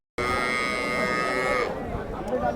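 A single long, loud moo from a nearby water buffalo at a livestock market, starting abruptly and holding for over a second before trailing off into background noise.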